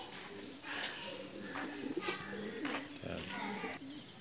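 Soft pigeon cooing repeats in low, throaty phrases, close by, with faint background noise throughout.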